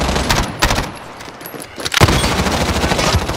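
SMG fire in a shooter game: loud, close rapid bursts with short pauses between them, plus a heavier burst near the middle, all without talking.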